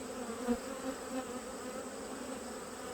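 Honeybees drone steadily around an open hive during an inspection as swarm and queen cells are checked. The buzz is a close, continuous hum with a few louder passes near the start and no talking.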